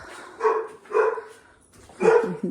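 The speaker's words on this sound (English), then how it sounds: "The dogs are barking." A dog barks three times, with a short pause between the second and third barks, each bark sounding moderately near.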